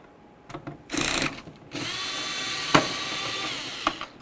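Power tool with a Torx T30 bit backing out a door handle mounting bolt on a 1999-2007 Chevy Silverado, short whirring bursts then a sustained whine with a click, close by.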